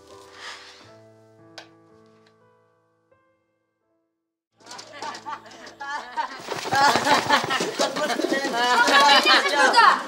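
A few soft bird coos at the start, then a pause, followed by louder overlapping chatter and calls that build toward the end.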